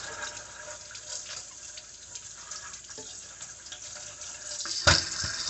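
Tap water runs steadily from a kitchen faucet while raw chicken livers are rinsed and turned in a sink, a continuous close splashing hiss with a brief louder splash near the end.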